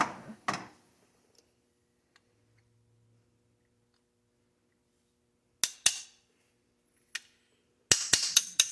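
Sharp metallic taps of a hammer on a brass punch, driving a part on a rifle lower receiver, ring out sparsely in a quiet room, a few isolated hits and then a quick cluster of several strikes near the end.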